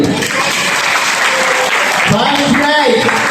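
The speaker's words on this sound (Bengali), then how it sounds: "সবাই সবার জন্য একটা হাততালি দিই।" An audience at a live lottery draw event claps loudly and continuously. The dense applause fills the whole stretch, and some voices can be heard mixed in.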